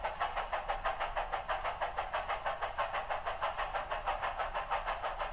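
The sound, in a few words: Tsunami2 sound decoder steam locomotive chuff and snifter lift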